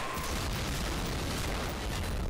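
A short, loud blast rumbles continuously as an explosive charge blows a hole through a wall in Medal of Honor Frontline Remastered on PS3, a dense booming roar that holds steady throughout.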